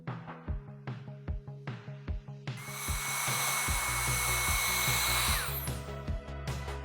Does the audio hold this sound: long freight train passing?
no